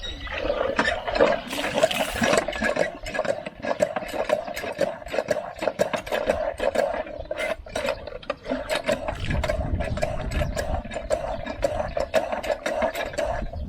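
Water runs from a tap in a steady faint trickle while a low mechanical hum continues underneath, with scattered clicks and knocks throughout.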